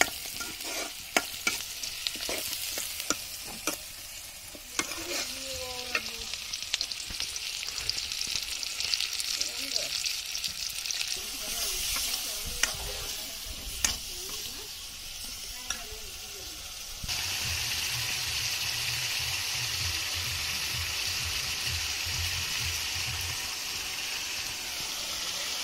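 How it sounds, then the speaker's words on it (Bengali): Pangas fish and potatoes cooking on a clay stove outdoors in a village, with soft sizzling and stirring scrapes, a hiss that grows steadier and louder partway through, faint background sounds around it. "এখন রান্না হচ্ছে পাঙ্গাস দিয়ে আলু।"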